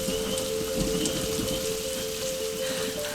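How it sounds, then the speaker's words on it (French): Steady rain falls in cold June weather in the Saguenay region during a long outdoor charity trek, a continuous close hiss of drops on surfaces with no talking. "Puis il pleut."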